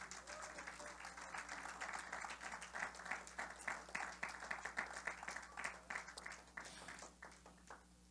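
Rhythmic clapping from a church congregation, a steady run of palm strikes over a low hum, fading slightly toward the end.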